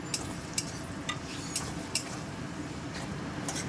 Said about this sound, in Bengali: পেঁয়াজটা এখন আমার বেশ ভাজা ভাজা হয়ে গেছে।